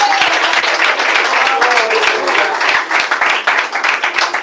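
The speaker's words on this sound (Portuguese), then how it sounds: "E bate palmas." A church congregation claps together in a dense, sustained burst of applause that carries on for several seconds, thinning slightly toward the end, with some voices mixed in.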